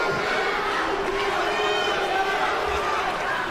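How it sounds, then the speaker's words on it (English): Judo arena crowd at the World Championships final in Hungary, a dense continuous roar of cheering and chatter filling the hall, steady and loud throughout with no breaks. "Wow, the crowd here are just loving this."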